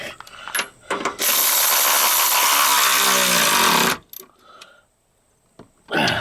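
Impact or power tool running a nut onto a Chevy Van 3500 driver seat: a few short clicks, then a loud sustained whir of nearly three seconds, pausing, then starting again at the end.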